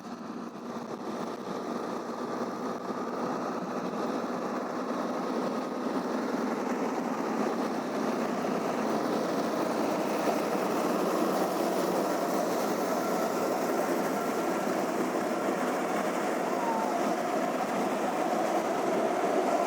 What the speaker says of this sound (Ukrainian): Йде у нас трактор, а за ним іде комбайн.